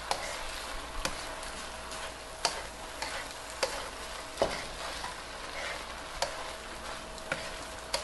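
Pad thai noodles with bean sprouts and egg stir-fried in a hot pan give a steady sizzle, broken by sharp spatula clacks about once a second and scraping stirs, close-up with no talk.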